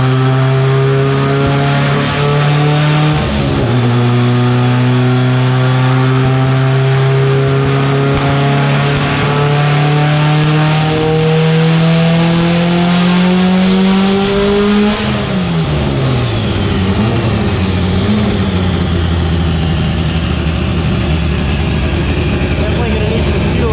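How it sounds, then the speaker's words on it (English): A Honda CRX revs hard on a dynamometer, its engine note climbing in long steady pulls, dropping, then rising again, loud and close throughout with a continuous mechanical drone. "it looks like we've got Derek's in there on the dyno now, so they're gonna do some rips"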